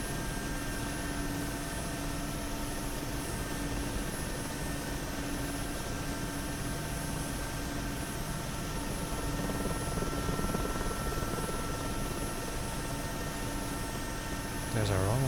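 A Mi helicopter in the DCS flight simulator, with a loud steady rotor and turbine drone running continuously and unchanging throughout, no talk over it.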